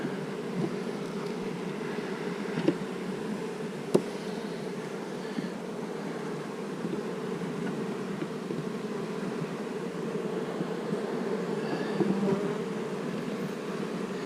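Honey bees buzz steadily in an opened hive with brood frames, a dense, continuous drone close by with a few faint clicks and no talking.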